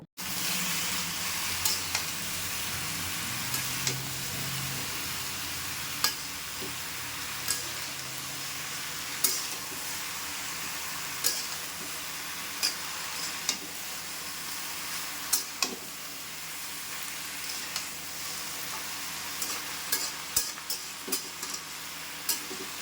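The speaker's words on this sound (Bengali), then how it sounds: "এই পুঁই শাকগুলি দেওয়ার পর সমস্ত সবজিগুলির সাথে খুব ভালো করে মিশিয়ে নেব এবং কিছুক্ষণ সময়ের জন্য নেড়ে চেড়ে নেব" Malabar spinach being stirred together with mixed vegetables in a pan for a Bengali chorchori, a soft continuous sizzle with scattered scraping clicks of a spatula, close and steady throughout.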